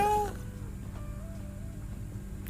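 A cat meows in the VR video game I Am Cat VR, a single drawn-out pitched call at the start followed by softer wavering tones over a steady background hum.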